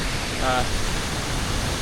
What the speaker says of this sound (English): It's this cool waterfall with a giant bridge over here